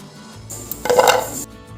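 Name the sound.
crispy fried snacks rattling in strainer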